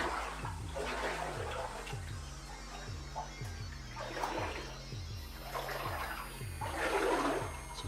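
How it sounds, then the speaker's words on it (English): Water splashes and trickles through a flooded tunnel of an abandoned gold mine. The gushing swells in irregular bursts over a low rhythmic thumping that repeats throughout. "Here's the water we're back into."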